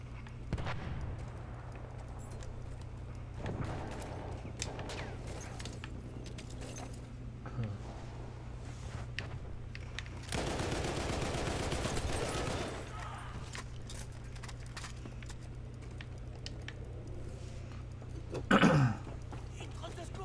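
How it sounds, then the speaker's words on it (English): Gunfire in the video game Battlefield 1 during a Conquest match crackles in scattered bursts, with a heavier volley in the middle, heard at a distance beneath a player's talk and background hum. "Man, it sounds like gunfire is close."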